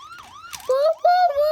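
A wailing ambulance siren from a car video game, rising and falling in quick sweeps before settling into a steady high tone, loud and close.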